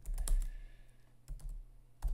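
Someone types a command on a computer keyboard: a quick cluster of close keystrokes, a pause, then a few more taps and a final burst.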